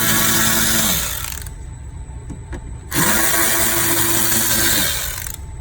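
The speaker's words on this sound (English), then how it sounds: "we come to the side of the bumpers and take these screws off" A power tool drives out the side bumper screws on a 2018–2019 Honda Accord, making close, loud whining bursts that ramp up and down twice with a quieter gap between them.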